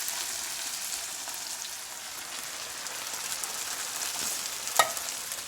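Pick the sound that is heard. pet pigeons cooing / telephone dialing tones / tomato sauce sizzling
tomato sauce sizzling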